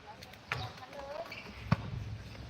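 A football is kicked and thumps twice at close range, sharp single impacts about a second apart, with faint outdoor background noise between them.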